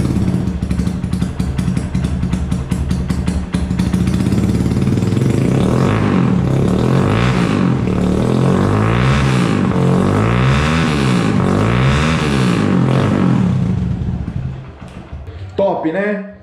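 A dirt bike engine roars loudly close by in an enclosed space, revving up and down in repeated surges before cutting off near the end.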